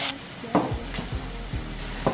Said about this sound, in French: Quand ma poêle est bien chaude, je peux ajouter mes oignons et je vais laisser un petit peu revenir